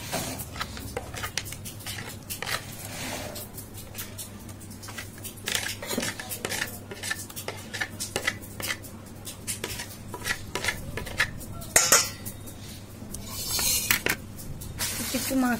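Turmeric, ginger, cumin, garlic and onion paste worked together by hand or spoon for biryani, giving a steady run of close, wet squishing and clicking strokes with occasional sharper knocks against the bowl.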